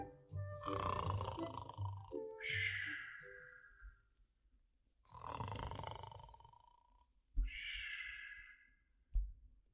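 A voice imitates a man snoring: a few slow, rasping inhales followed by higher, drawn-out wheezy exhales, close and fairly quiet.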